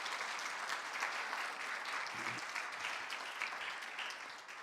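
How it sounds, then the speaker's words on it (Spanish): Congregation at a church service applauding, a steady, dense clapping that fills the room from start to finish and fades slightly at the close, recorded at a low level. "denle un aplauso fuerte al Señor"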